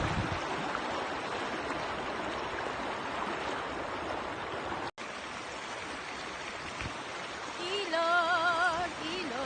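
A river in Pampanga flows in a continuous broadband rush close by, and a voice briefly rises over the water near the end.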